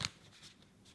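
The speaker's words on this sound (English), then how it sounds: "One more shuffle." Tarot cards shuffled once in a short, crisp riffle burst at the start, followed by faint papery rustling in an otherwise quiet room.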